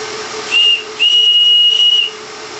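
Three small JPB oscillating steam engines of 1.4 cc running together for a model battleship, giving a loud steady steam hiss with two sharp whistling bursts, a short one then a longer one, close and without voices.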